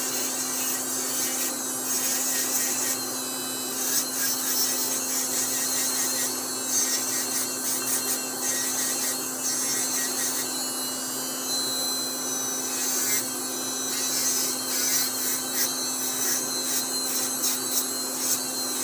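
A rotary burr grinds and smooths solder on a fixed metal orthodontic appliance, a steady high whine close up with small fluctuations as the tool presses against the metal, running continuously with no voices.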